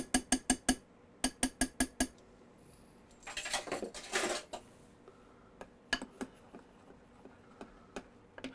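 A teaspoon stirs blue gel food coloring into frosting in a bowl: brisk runs of rhythmic metal taps, then a longer scraping stir, then scattered single clinks, quiet and close.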